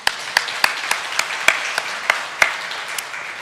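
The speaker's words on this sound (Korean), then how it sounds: "영광의 박수 올립니다" Scattered claps ring out in a church congregation, about ten sharp, separate hand claps at uneven intervals over a faint hum of room noise.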